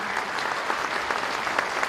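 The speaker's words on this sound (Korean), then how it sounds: "여러분 큰 박수로 환영해 주시기 바랍니다" An audience at the opening ceremony of the 2020 Pyeongchang Peace Forum gives a guest a dense, continuous round of applause that fills the hall, with no voices rising above it.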